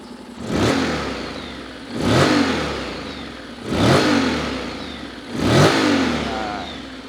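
A 2018 Honda X-ADV big bike with about 22,000 km on it is revved four times at a steady interval, each blip rising and falling back to idle, loud and close with no voices.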